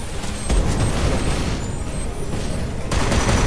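Loud, dense mobile battle-game gunfire with sniper shots booms in a continuous barrage, heavy and close, with sharp cracks layered over a constant rumble and no clear pauses.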